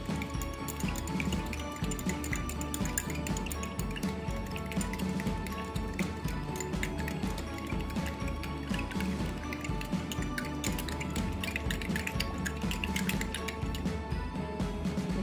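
A teaspoon stirs salt into a cup of water, giving soft, continuous liquid swishing and faint dripping, quiet and close, with no talking.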